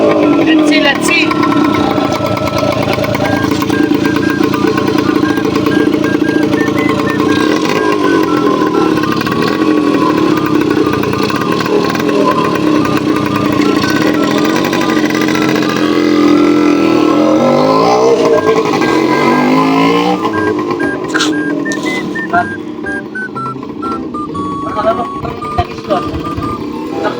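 A junked Yamaha RS 100 two-stroke motorcycle running after revival: a steady, buzzy engine drone with rattly mechanical clatter holds close and loud throughout, with light throttle variation near the end, under people talking.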